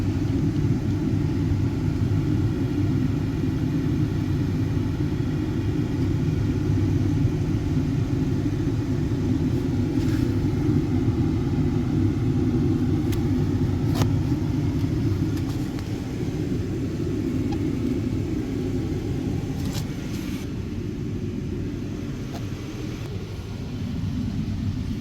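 A 2014 Ford F250 Super Duty pickup idles steadily, a loud, continuous low engine rumble holding constant throughout with faint intermittent clicks and ticks above it and no talking.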